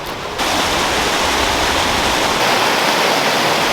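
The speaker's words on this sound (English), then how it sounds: "Moss-covered trees, water running." Water rushes along a forest stream among moss-covered trees, with snow still on the ground. The sound is a loud, steady, close wash of white noise with no break, and nobody speaks.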